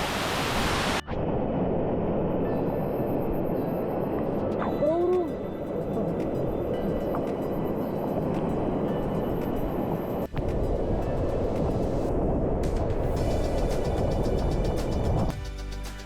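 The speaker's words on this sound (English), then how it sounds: "There's a possibility to walk behind the surface of the waterfall." Roar of a waterfall in the Gran Sabana, Venezuela, heard from behind the falling curtain of water: a loud, continuous, broadband rush that fills the whole stretch with almost no variation.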